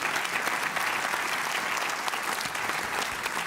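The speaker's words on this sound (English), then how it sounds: "A big round of applause to Paolo Gentiloni, François Villora de Gallo, Manuel Hayter, and Catherine Kluwer-Ashbrook." Forum audience applauds a panel of speakers, a full, continuous roar of many hands clapping that stays even and loud for the whole stretch.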